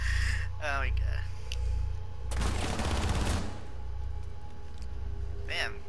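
A burst of rapid automatic gunfire from the video game Rainbow Six Siege, one dense volley lasting about a second, with players talking before and after it over a low background hum.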